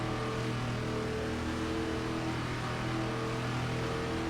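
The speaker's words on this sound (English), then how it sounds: "Do a brake drag, try to get the RPMs up." A race car engine in the iRacing sim holds a steady, droning rev during a brake drag before a Legacy ARCA start at Darlington, continuous and moderately loud with no voices.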